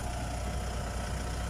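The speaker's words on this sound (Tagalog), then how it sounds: "mapapakinggan yung kanyang tunog ng makina" A used car for sale in the Philippines, with a replaced timing belt and about 113,000 on the odometer, idles steadily up close with an even, low engine hum and no talking.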